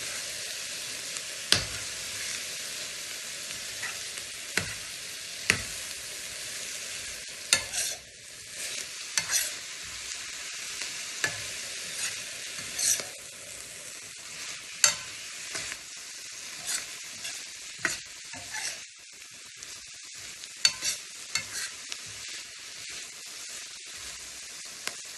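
Fresh green beans with crispy bacon frying in a pan, a long steady hiss and sizzle punctuated by repeated spatula scrapes and clacks as the mixture is stirred, close and without voices.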